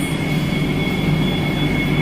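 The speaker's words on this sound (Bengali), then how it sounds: "ফাইনালি মেট্রো চলে আসছে" A metro train arrives at a Kolkata station, a steady loud rumble of wheels and carriages on rails with a sustained high whine running throughout, no talking.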